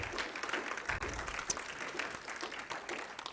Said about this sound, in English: give Gordy another round of applause for the use of his church